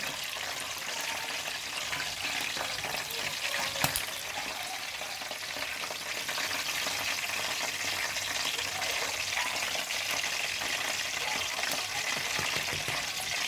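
Pork frying in plenty of hot oil, a dense, steady bubbling sizzle that stays close and even throughout, with one brief clink partway through.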